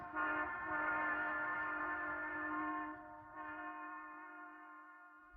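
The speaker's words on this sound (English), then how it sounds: "If the train is receding, the waves are stretched and the note is lower." A passing train sounds a sustained horn whose pitch drops partway through as it recedes, steady and fairly loud at first, then lower and slightly quieter with no talking.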